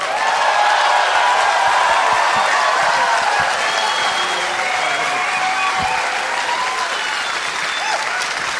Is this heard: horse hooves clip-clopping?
no